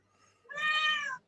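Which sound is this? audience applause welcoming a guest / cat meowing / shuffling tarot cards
cat meowing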